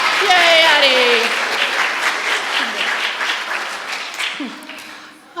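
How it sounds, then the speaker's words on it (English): Audience applause and cheering for a girl named Addie taking her bow at a girls' ministry church service; dense, steady clapping fills the room, with a voice calling out over it and the applause thinning near the end. "So clap for Addie here. As she takes her bow."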